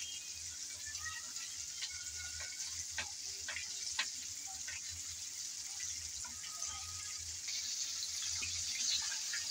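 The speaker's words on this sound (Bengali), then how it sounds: "এভাবে কিন্তু একটু সময় ধরে ভাজতে হবে" Chicken pieces frying slowly in hot oil give a steady, soft sizzle with scattered crackles and pops, heard close and fairly quiet, with no talking.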